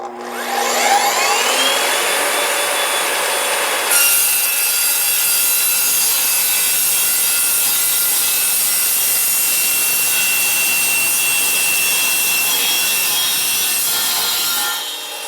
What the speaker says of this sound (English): And that's what stainless steel looks like cut on this saw.